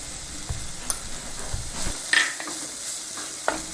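Crushed garlic and ginger frying in a pan with onions, a steady soft sizzle under brief scraping stirs and light clicks of a spatula, close and moderately loud.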